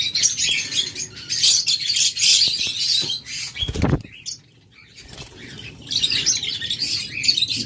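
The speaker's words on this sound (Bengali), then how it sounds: "এটা হলো গ্রিন চিক কোনুর।" Green cheek conures, a double red factor bird with a bright red chest, chirp and flutter nearby in bursts of busy high calls and wing flaps, with a short pause midway.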